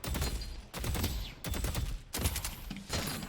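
Bursts of rapid automatic gunfire ring out in the video game Deadlock, loud and close, in several sustained volleys separated by brief gaps.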